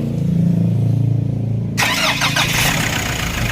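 A low idle rumble, then a Nissan NV350 van engine cranks and catches midway, roaring up into a loud, busy running sound close by.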